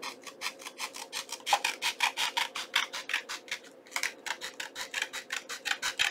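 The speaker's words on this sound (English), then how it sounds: "I'm not doing really a very good job of trimming" Paper is trimmed for a junk journal in quick, rhythmic rasping strokes, close and fairly quiet, a steady run of short scraping cuts with one brief pause, no talk.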